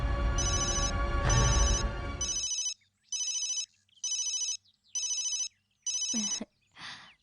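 A telephone rings in a Tamil TV serial, sounding as a sequence of regular electronic ring bursts that start under a loud musical swell, then continue alone with short gaps between them before cutting off.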